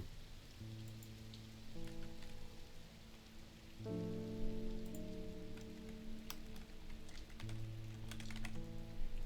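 Rain falls steadily outside with a soft, constant patter, faint and unbroken, while quiet sustained tones hum in the background.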